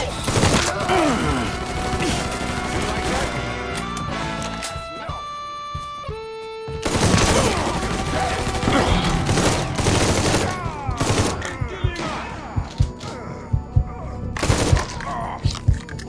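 Gunfire in the video game Mafia 3: loud bursts of rapid automatic fire and scattered single shots, with a brief lull midway before the firing resumes, punctuated by sharp cracks and impacts near the end, with shouted voices mixed in.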